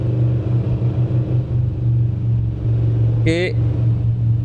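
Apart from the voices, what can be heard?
Lamborghini Urus 2024 engine driving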